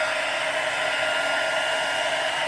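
Steady, loud, unbroken blowing whoosh of an embossing heat tool pushing hot air for texture embossing, constant and close with no voices.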